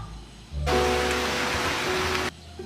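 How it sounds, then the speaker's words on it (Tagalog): Rain falls steadily outdoors, a loud broadband hiss that starts suddenly, holds evenly for nearly two seconds and then cuts off, with no one talking. "Kita mo namang umuulan, no?"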